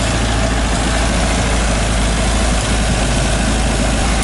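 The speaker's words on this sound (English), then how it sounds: "Nice and quiet, seems to be kind of idling fine." A turbocharged Toyota KE70 Corolla engine idles steadily and loudly up close, a smooth continuous low drone with no speech over it.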